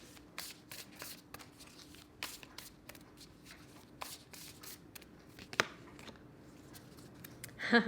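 Oracle cards shuffled by hand for a tarot reading, a long run of crisp, repeated riffling flicks at close range over a quiet background, with a louder flurry near the end.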